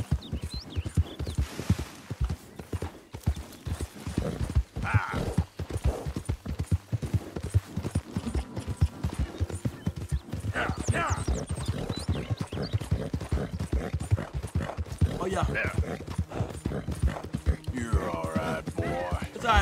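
A horse is ridden in Red Dead Redemption 2 with steady, rhythmic hoof clip-clops close by throughout, a brief whinny and some mechanical clatter in the mix, while a person talks intermittently over the gallop.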